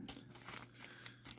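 Thin plastic wrapping on a 1/100 Zvezda M3 Lee US medium tank model kit crinkles and crumples steadily as it is cut open, close and fairly quiet, with no talking.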